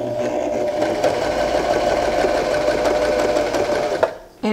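Janome Arctic Crystal sewing machine running a steady straight stitch, a close continuous whirring hum with rapid needle clatter that stops abruptly near the end.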